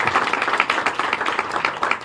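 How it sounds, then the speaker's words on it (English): A rally audience applauds steadily, dense clapping from a crowd heard loud and close, sustained without a break. "you can clap for that"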